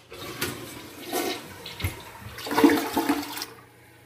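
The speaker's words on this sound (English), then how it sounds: "The toilet just flushed." A toilet flushes, a loud swirling rush of water that builds, peaks near the end and then drains away into quiet.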